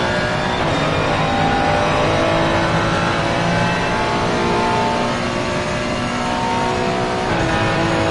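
GT3 race cars accelerate at Bathurst in a sim racing game, one engine loud and close, climbing steadily through the gears with a continuous high-pitched roar and no pauses.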